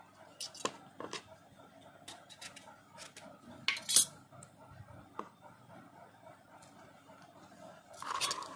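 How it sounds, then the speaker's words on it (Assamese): A knife cuts raw mango into small pieces for pickle, giving scattered close clicks and scraping taps of blade and cutlery against a board or dish, fairly quiet with brief louder bursts. "মই এইদৰে সৰু সৰুকৈ কাটি ল'ম।"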